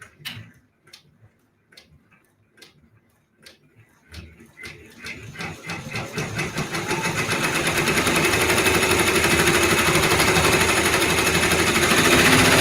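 A Brother embroidery machine stitches quilt tack-down lines, starting with a few sparse ticks and then settling into a loud, steady, rapid mechanical stitching rhythm that holds close and constant to the end.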